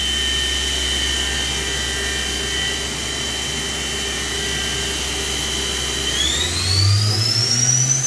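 Spindle of a 2002 Daewoo DMV-4020 CNC vertical machining center running at 4,000 RPM, a steady, close mechanical whine and hum with a low drone that swells and rises in pitch near the end as the spindle speeds up.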